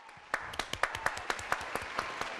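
A television studio audience claps for two women guests on a talk show, with a steady run of distinct, evenly spaced hand claps that start suddenly and carry on at a moderate level, along with faint background talk.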